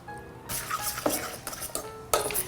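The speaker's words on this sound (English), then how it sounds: "I'm going to mix this all together" Meatloaf ingredients with pepper and milk being stirred together in a bowl, giving close scraping and clinking mixing strokes in several bursts with brief pauses.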